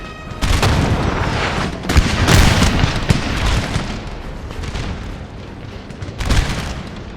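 Artillery fire in the Napoleonic battle game Napoleon: Total War, with several loud booming cannon shots at irregular intervals over a constant rumble of battlefield noise.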